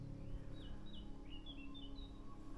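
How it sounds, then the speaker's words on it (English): Birds chirp and sing in the Abruzzo countryside of Italy near a villa, a series of short, fairly faint calls over a steady low background hum. "Can you hear the birds?"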